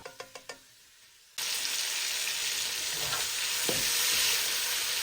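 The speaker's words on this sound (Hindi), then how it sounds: "तो बस फिर मैंने इस चिकन को इस ऑयल में अच्छी तरीके से फ्राई कर लिया था" Chicken fries in hot oil with a loud, dense crackling sizzle that bursts in suddenly after a few soft knocks and keeps hissing steadily, close up.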